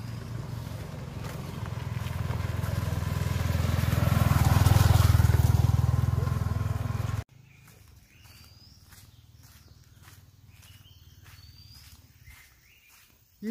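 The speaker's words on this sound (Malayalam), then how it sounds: "ബൈക്ക് വരുന്നുണ്ടേ." A motorbike on a forest road rises in a steady engine roar that peaks and then cuts off abruptly, leaving quieter open-air background with faint repeated calls.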